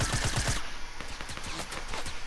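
Rapid video-game gunfire rattles in dense bursts, loud and close at the start, then continues as quicker, lighter shots through the rest, with no talking over it.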